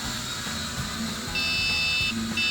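A Q222K drone in headless mode gives two high-pitched electronic beeps, each long and steady, over faint background noise in the second half.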